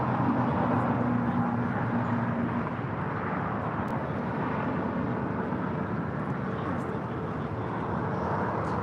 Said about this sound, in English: Next departure here on the south side is Air Canada, flight 790, heading to Toronto in an A321